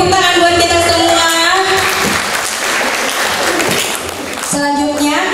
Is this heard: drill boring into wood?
no